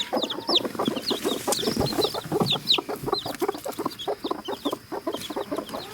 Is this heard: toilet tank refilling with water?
no